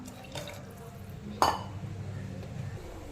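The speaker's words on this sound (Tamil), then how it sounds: "இப்போ இதில் தண்ணி ஊற்றிக்கலாங்க." Water pours and splashes into a metal pressure cooker at moderate distance while making chickpea curry, with a sharp clink partway through and soft kitchen noise around it.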